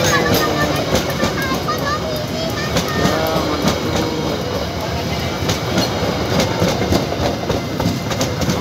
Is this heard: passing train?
yes